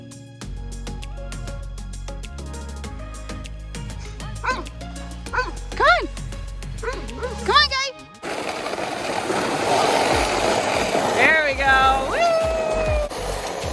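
Dogs yipping and whimpering excitedly around a sled in snow, with repeated rising barks over music at first, then a rushing noisy passage with more yelps, fairly close, with people speaking.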